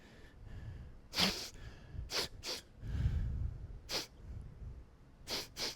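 A voice imitates a child's intense sniffling: several sharp, wet snorting inhales spaced irregularly, with quieter breathing between, close and fairly soft.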